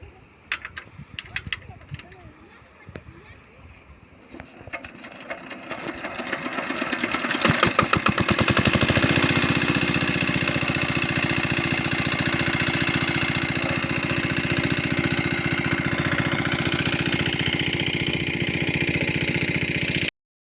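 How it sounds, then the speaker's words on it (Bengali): A China-made water pump engine restarting after refuelling with petrol in a vegetable field: quieter knocks and rattles at first, then the motor catches and settles into a loud, steady, close running drone. "পেট্রোল পাম্প থেকে তেল নিয়ে আসার পরে এখন তেল ডালিয়ে আবার স্টার্ট করছি।"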